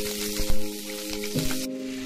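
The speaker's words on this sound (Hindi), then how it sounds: "अब देखिए, इसे अच्छी तरह से फ्राई होने के लिए देंगे।" Cauliflower and potatoes fry in hot mustard oil with a loud, steady sizzle, broken by a few stirring knocks and scrapes.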